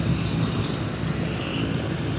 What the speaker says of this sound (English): Right in front of us, Cherokee Archer 2.